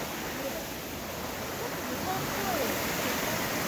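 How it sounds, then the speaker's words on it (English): A small river stream flows along a trail near Mendenhall Glacier in Juneau, Alaska, a steady broadband rushing of water, close and continuous, with faint bird calls behind it. "Kind of this small little river stream halfway through the path to the waterfall."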